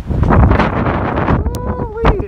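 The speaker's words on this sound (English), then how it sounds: "is it windy out?" Strong wintry wind buffeting the microphone outdoors in snow, loud rumbling gusts that ease briefly, with a person speaking toward the end.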